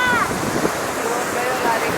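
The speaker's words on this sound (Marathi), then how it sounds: "हे बघा, आता ही जोरदार लाट आली आहे." Ocean waves break at Fort Kochi beach in a loud, continuous roar of surf and wind, close to the microphone, with a voice faintly over it.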